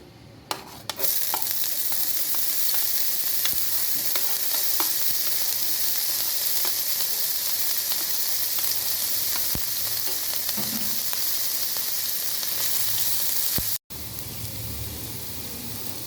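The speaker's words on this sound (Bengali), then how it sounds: "তেল সামান্য গরম হয়ে গিয়েছে, দিয়ে দিচ্ছি চপ করে রাখা আদা রসুন কুচি।" Chopped ginger and garlic frying in hot soybean oil, a loud continuous sizzle with stirring clatter running unbroken for over ten seconds, then briefly cutting out and resuming.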